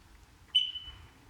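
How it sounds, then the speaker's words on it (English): A combined smoke and carbon monoxide detector gives a single shrill electronic test beep in a quiet room, sharp onset and a brief ringing tail. "It's gonna beep at us."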